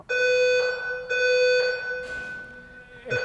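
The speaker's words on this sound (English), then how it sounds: "the fire alarm here in the State House went off" A fire alarm blares inside the State House with a steady, loud electronic tone in repeated long pulses, each cycle separated by brief gaps, heard alone without talk.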